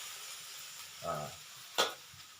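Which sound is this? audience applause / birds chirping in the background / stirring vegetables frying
stirring vegetables frying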